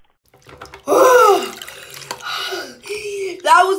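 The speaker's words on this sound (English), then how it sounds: "That was a big splash, wasn't it?" Big water splash from a toy train ride down a slide, heard as a loud rushing splash followed by further bursts of splashing water, with voices and brief whoops mixed in.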